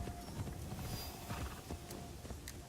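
Horse hooves clip-clopping along a road in the video game Assassin's Creed Shadows, a steady run of soft hoofbeats over constant background ambience, with no talking.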